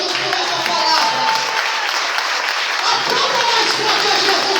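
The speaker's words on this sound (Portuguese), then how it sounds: "Aplauda mais forte a Jesus por essa palavra." A church congregation at an Assembly of God congress in São Paulo applauds loudly and continuously, dense crowd clapping filling the space with voices mixed in.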